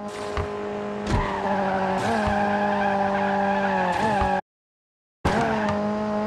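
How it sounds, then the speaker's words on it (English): A car in the Need For Speed Mobile racing game drifts with steady, loud tire squeal over a revving engine, punctuated by several sharp gear-shift or impact hits, with a brief dropout near the end before the skid resumes. "Your drifting's not just fast, but skillful."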